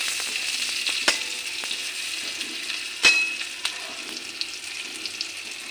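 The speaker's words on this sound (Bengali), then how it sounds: "গোটা জিরে, পেঁয়াজ কুচি কুচি করে কেটে রেখেছি ওটা দিয়ে দেব।" Whole cumin and finely chopped onion fry on a low flame for a small rohu fish curry, giving a steady soft sizzle with a few sharp clicks and taps of a utensil against the pan.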